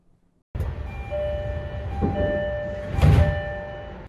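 A train departs Kawagoe Station with a low rumble and rising electric motor whine, its tones stepping upward as it pulls away, with a clunk partway through.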